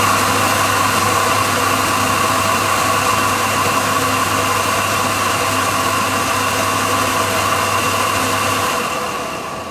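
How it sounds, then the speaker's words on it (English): A flow bench blows air through a motorcycle cylinder head during a test, producing a loud, steady rushing roar with a low motor drone that holds constant for nearly ten seconds before tapering off. "I'm going to show you how this flow bench works."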